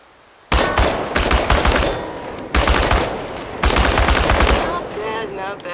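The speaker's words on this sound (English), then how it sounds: "The biggest challenge is compensating for recoil in automatic firing mode." Video-game automatic gunfire shooting at cans comes in three loud, rapid bursts of rattling shots, each followed by short pauses and faint ringing effects.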